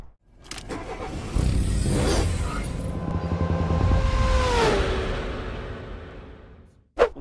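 A Hyundai i30N engine cranks and fires up, settling into a loud, steady near rumble with a rising whine, then cutting to a sharp knock at the end.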